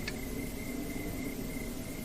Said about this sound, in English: I heard the owls scream and the crickets cry.